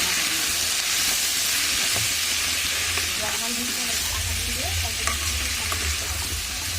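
Vegetables with tomato, salt and turmeric sizzle in a hot pan while a spatula stirs and scrapes through them, a steady loud frying hiss with occasional clinks.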